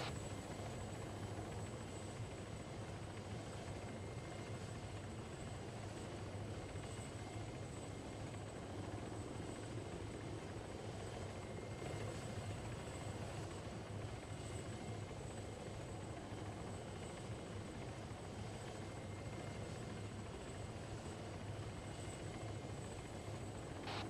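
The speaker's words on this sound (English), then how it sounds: "Everybody's out of the helicopter," A helicopter in Arma 3 drones on steadily, its rotor and engine noise filling the whole stretch at an even, quiet level with no talk over it.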